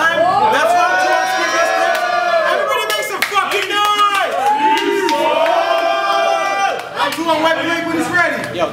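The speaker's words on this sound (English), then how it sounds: "Listen to the crowd" Rap battle crowd reacting in a loud, continuous roar of voices, shouts and scattered clapping, with overlapping talk and whoops throughout, briefly dipping before surging again.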